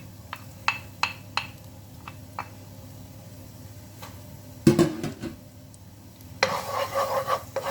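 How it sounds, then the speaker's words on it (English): Garlic and onions cook in a pan over low heat for a mushroom Alfredo pasta, with scattered utensil taps and scraping, then a soft sizzle that swells near the end, quiet and without talking. "Now I'll be adding the garlic on low heat"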